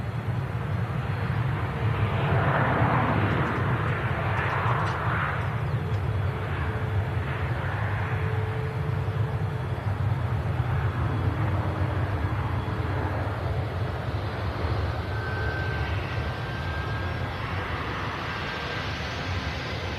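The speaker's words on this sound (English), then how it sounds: "We have got a Dreamliner on the taxi out." Jet airliners, a Boeing Dreamliner and an Emirates Airbus A380, taxiing at Manchester Airport, producing a steady distant roar and whine of engines that holds throughout.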